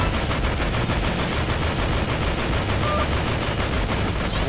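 Dense, continuous rapid gunfire from a zombie-shooting game, Dead Or School, a loud unbroken rattle of shots that fills the whole stretch with no pauses and no voices.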